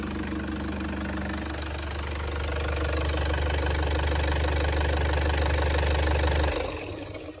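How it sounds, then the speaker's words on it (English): A Toyota Prado engine runs close by with a heavy, rhythmic knock under its rough idle, a steady low drone that swells slightly before cutting off near the end as the engine is switched off. "I can even reach around and stop the engine."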